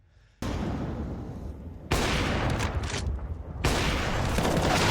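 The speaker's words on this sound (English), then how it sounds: "Junior pounds shots through the wall" Counter-Strike gunfire on the Vertigo map bursts through a wall in three loud, abrupt volleys, each cutting in sharply and sustaining with rapid crackling shots.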